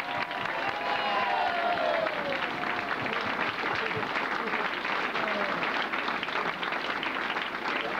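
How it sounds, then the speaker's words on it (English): Applause for a graduating class at a training graduation ceremony, a dense steady wash of clapping from a crowd lasting throughout, with faint voices threaded through it. "Let's have a round of applause for the graduating class."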